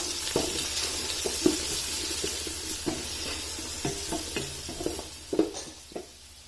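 Garlic cloves and onion frying in desi ghee for a mutton mandi rice dish, with a steady sizzle and repeated sharp clinks and scrapes of a spoon stirring the pan, close and moderately loud, with no talking.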